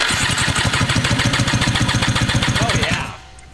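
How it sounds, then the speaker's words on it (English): A jet ski engine cranks over on a jump pack during a compression test, a loud, rapid rhythmic chugging of the starter that runs steadily for about three seconds and then stops abruptly. "I'm ready to do a compression test on the engine."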